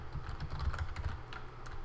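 Steady, continuous typing on a computer keyboard in IntelliJ while Java code is entered, with quick, closely spaced key clicks at an even level and no voices.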